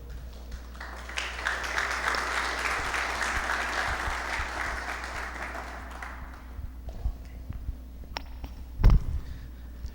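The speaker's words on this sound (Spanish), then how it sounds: "le vamos a recibir a él un cálido aplauso" An audience gives a warm round of applause to welcome a speaker at a church gathering. The clapping swells and holds for several seconds, then fades, leaving room noise and a brief bump.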